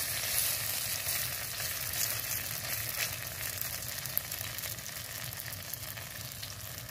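Lentil fritters (bora) fry in oil over a low flame, making a soft, even sizzle that runs steadily throughout with faint bubbling and no talk.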